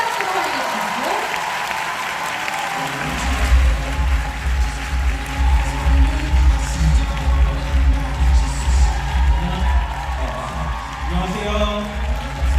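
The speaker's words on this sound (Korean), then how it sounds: "여러분 큰 박수로 환영해 주시고." An audience at a Nu Skin business seminar applauds to welcome a speaker, with steady clapping and some cheering over a loud, rhythmic low-frequency music beat, and voices now and then.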